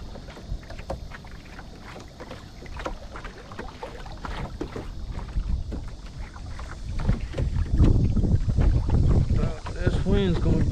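Wind gusting and rumbling across a rowboat out on the water, a steady blustery roar that swells louder toward the end, with faint creaks and knocks from the boat.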